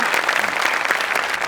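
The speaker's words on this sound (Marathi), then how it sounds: "मी टाळ्या वाजव ना मॅडम साठी" Steady, dense applause from a studio audience clapping for a performer on a Marathi comedy show, filling the whole moment evenly without a break.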